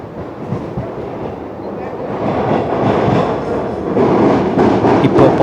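A suburban train runs on the tracks into Park station in Chennai, a loud continuous rumble of wheels and carriage noise that swells slightly as it rolls in.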